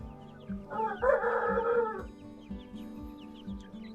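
Ornamental chickens, Indio Gigante crossed with Samo, sun themselves on a farm in the morning, giving low repeated clucks in a steady rhythm while one bird lets out a brief loud crowing call close by.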